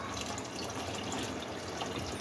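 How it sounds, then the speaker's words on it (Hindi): Chicken yakhni broth pours into a pot of masala in a steady, continuous splashing rush of liquid, close and even throughout, with no one talking. "जो यखनी हमने बनाई थी वो इसमें डाल दें"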